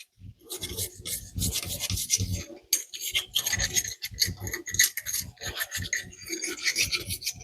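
Bent wire handle tool scrubbing the inside of an old found bottle, giving close, uneven scraping and rasping strokes in quick irregular bursts, with no talking.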